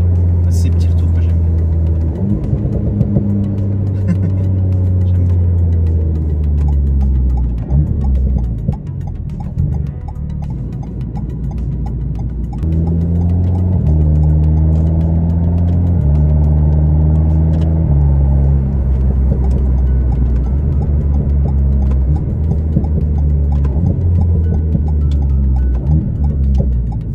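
Two-seater sports car driving with its engine running loud and close, the note rising and falling through gear changes, with someone talking over it throughout.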